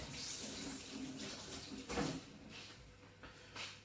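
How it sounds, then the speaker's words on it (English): Running tap water splashes into a sink during hand washing in a home kitchen while cooking roast lamb, a steady soft rush with a few brief louder splashes and knocks. "I need to wash my hands"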